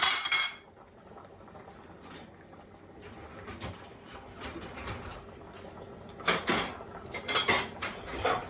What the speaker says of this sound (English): I'm gonna get another plate for Mr. Nick